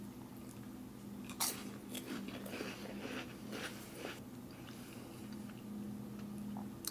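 Crunchy bites and chewing on a 1981 MRE cracker spread with grape jelly, close and fairly faint, with several sharp crunches early and then softer mastication under a steady low hum.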